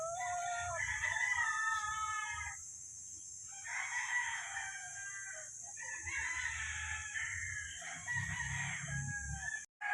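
Gamefowl roosters of straight breed crow at a breeding farm, three long cock-a-doodle-doo calls close by in succession over a steady high insect-like hiss and faint low rumble.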